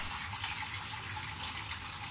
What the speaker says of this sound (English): Now I'm going to run some fresh water through the radiator to help flush out whatever remaining coolant and